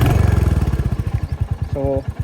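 A new Royal Enfield Hunter 350 motorcycle idles up close, its exhaust putting out an even, thumping beat of low pulses.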